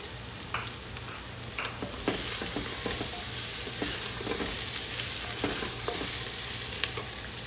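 Chopped vegetables for sai bhaji fry loudly in a pan, a continuous sizzle broken by scraping and tapping as they are stirred.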